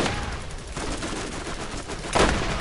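Steady gunfire from a first-person shooter battle in Borderlands, dense and continuous across the clip with a sharper louder burst near the end, no talking over it.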